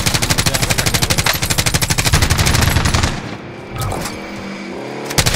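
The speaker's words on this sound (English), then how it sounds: "Oh fuck, I'm being shot." Rapid automatic gunfire in the Modern Warfare Warzone video game, a loud sustained burst of evenly spaced shots for about three seconds, then a lull with faint rumbling and one last sharp shot at the end.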